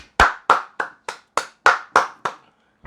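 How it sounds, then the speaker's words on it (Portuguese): A single person claps hands about nine times in a slow, even rhythm, each clap sharp and close, with a brief pause before the last one. "Uma salva de palmas, sério mesmo."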